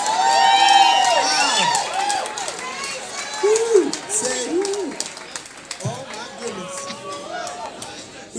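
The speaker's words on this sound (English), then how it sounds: "even have to ask for a round of applause for that performance" After a live performance of a song at a jam night, the audience cheers and claps while a host speaks loudly over the crowd noise, which fades gradually.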